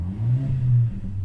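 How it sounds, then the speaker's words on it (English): A Mercedes-AMG CLA45 S 4Matic+ in Sport Plus mode gives a brief, low, throaty rev that swells and settles, heard close and alone. "the sound of that engine, a little popping signal that it's giving you as well"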